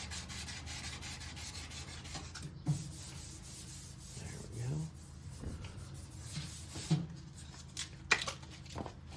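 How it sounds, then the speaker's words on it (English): Hand sanding on a 1968 Firebird body panel, a quiet rasping scrub of strokes with occasional soft knocks, at low level. "Now, I don't know exactly how long I was sanding on that."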